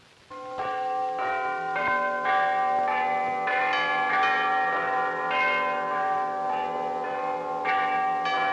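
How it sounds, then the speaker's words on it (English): Church bells ring out steadily and loudly in a 1936 period film scene, their overlapping peals sustained and resonant for the whole stretch, with no speech over them. "Can't you hear the bells?"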